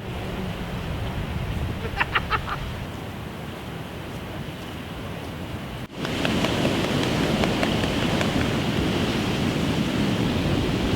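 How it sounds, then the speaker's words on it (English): Steady, dense hiss of heavy rain on a mountain hike that swells louder about halfway through, with a faint voice briefly audible early on. "The rain happened."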